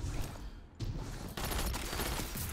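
Weapon fire in the Destiny video game comes in quick two-round bursts of loud shots. The clustered reports form several sharp bursts over a dense, noisy game backdrop.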